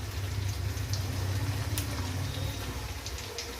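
Garlic frying in oil in a pan while an egg curry is being made, giving a steady soft sizzle and crackle with a low rumbling undertone throughout, no talking.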